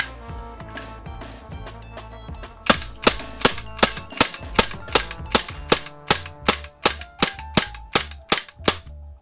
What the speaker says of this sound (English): It's got a nice, decent kick on it, and that lockback is positive